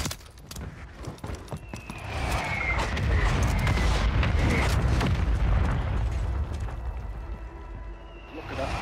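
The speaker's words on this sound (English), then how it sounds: "Mortar strike." Mortar strike explosions in the shooter Warzone 3: a few sharp pops, then a long, loud rumbling blast that swells and slowly fades, with a faint whistle near the end.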